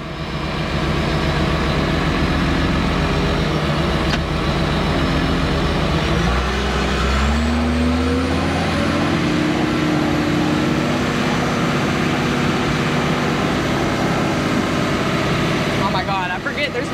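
A bulldozer engine runs hard and steady while pushing sawdust, a loud continuous low rumble with a rising whine partway through, and voices talking over it.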